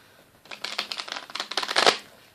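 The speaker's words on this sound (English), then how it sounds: "I'll give them a quick shuffle." A deck of tarot cards being shuffled in a few quick riffling bursts, close and crisp, building to a louder final flurry before stopping.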